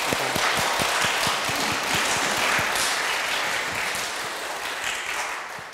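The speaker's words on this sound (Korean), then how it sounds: "하나님께 먼저 영광과 감사의 박수를 올려드리기를 원합니다." A church congregation at a Thanksgiving Sunday service claps together in sustained, dense applause that fills the room, with sharper individual claps standing out near the start and the whole fading slightly toward the end.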